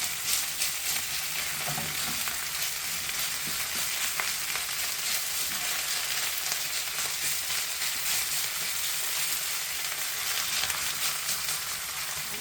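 A pan crowded with beef fries in a loud, continuous, even sizzle that holds steady throughout, close up and with no voices over it.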